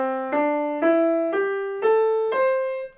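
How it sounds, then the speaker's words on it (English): Five sustained melodic notes of a Yonanuki pentatonic scale, the Japanese enka mode, played one after another in a slow steady rising line, each note struck cleanly and ringing into the next, clear and close with no voices. "a Yonanoki scale sounds like this"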